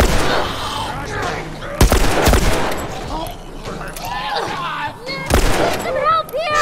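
Gunfire from The Last of Us Part II gameplay: sharp, loud shots burst out at a few points amid game sounds, with people talking over them.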